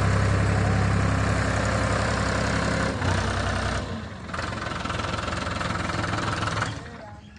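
A tractor strains under a heavily overloaded trailer, its engine a loud, continuous labouring rumble with a knocking throb. The roar dips just before the midpoint, carries on steadily, then fades near the end.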